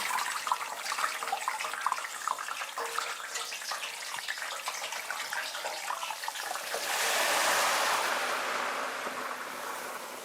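Chicken wings sizzling and bubbling in hot oil in a 4-quart stainless steel Cuisinart deep fryer, a steady close crackling hiss that swells louder partway through.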